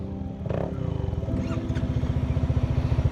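Honda ADV350 scooter engine firing up, with a brief starter whir and catch, then a close, steady idle that throbs evenly and grows slightly louder over a few seconds.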